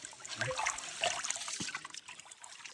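Water trickles and swishes close by as rice is rinsed, quiet and brief with small splashes.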